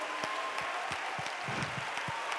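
A church congregation claps along during a Sunday evening evangelistic service, with a steady run of sharp, evenly spaced handclaps over a dense, reverberant wash of crowd noise.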